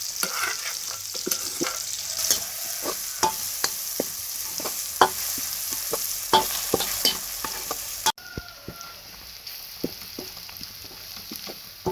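Chili and garlic being stir-fried in a pan for Isan-style holy basil frog, with a steady close sizzle and frequent sharp scrapes and taps of a spatula throughout, quieter after a brief cut.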